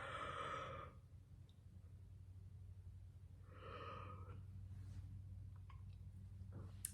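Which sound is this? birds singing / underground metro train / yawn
yawn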